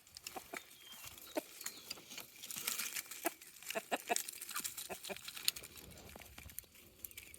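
Homestead chickens peck at a strawberry nearby, quiet scattered tapping and scratching with soft clucks, fairly faint.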